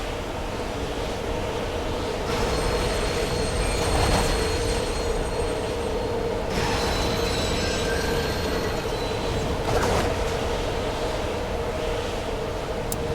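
Rumbling rush of a speeding tram in the sci-fi game Dead Space 2, a steady roar with bursts of metallic hiss and screech swelling in waves, loud and continuous with no voices.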